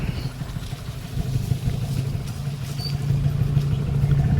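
Sonalika 740 tractor engine running on farmland, a steady low diesel rumble with a faint rhythmic knock that grows slightly louder toward the end, with no voices.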